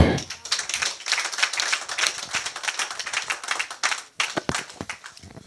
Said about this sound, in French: Acclamons pour Jésus, qu'il soit béni.